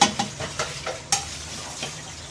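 A spoon stirs ground spices through mutton masala in a hot pot, scraping several times over a soft, steady sizzle.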